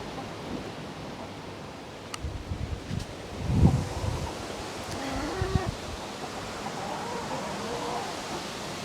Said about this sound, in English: Oh, it's a bit windy, isn't it?